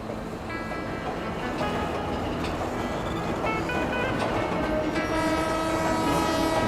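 A British Railways East Coast train sounds its horn several times as it moves off, with rumbling carriages and track noise underneath, a steady mid-distance roar throughout.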